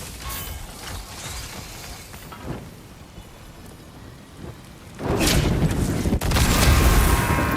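Loud explosions in the video game God of War Ragnarok, a dense rumbling roar over the last few seconds, with softer blasts and crackling earlier on.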